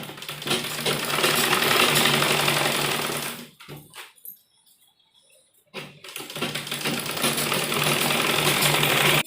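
Sewing machine stitching churidar pajama seams along marked fitting lines, a loud continuous whirring run that stops for about two seconds, then resumes for another sustained stretch.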